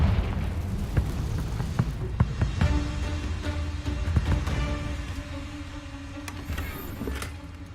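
Explosive spell blasts in Hogwarts Legacy: several sharp booming impacts with crackling debris over a dense rumbling game soundscape, loud and close, with sustained tonal hum toward the end.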